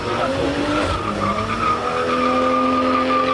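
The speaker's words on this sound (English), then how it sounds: "It's a nice slow drift." BMW M4 Competition tuned to 800 hp drifting slowly, engine droning steadily with a continuous tire squeal over about three seconds, close and loud, with a voice speaking over it.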